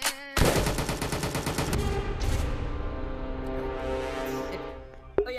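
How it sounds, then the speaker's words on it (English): Rapid gunfire bursts inside the VR game VRChat, a dense run of shots up front easing into a softer, sustained clatter with a sharp crack near the end. "Someone just shot me to death."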